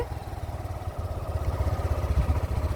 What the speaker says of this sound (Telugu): మేము బైక్లో పోతున్నామండి